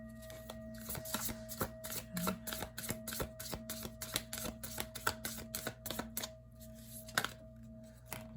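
Large oracle cards are shuffled by hand in quick riffling bursts of soft slapping flicks, close and fairly quiet, with a faint steady hum behind and no voices.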